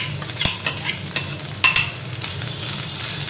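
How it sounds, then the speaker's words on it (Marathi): Soaked thick poha sautéing in ghee as a spoon stirs it, with a steady sizzle under several scraping, clinking stirs against the pan. "भिजवलेले जाड पोहे घातले की थोडंसं परतून घ्यायचं तुपामध्ये"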